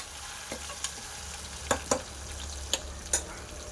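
Washed lentils fry in a pan for tomato dal, a steady low sizzle under a handful of sharp spoon scrapes and clicks spaced irregularly across the pan.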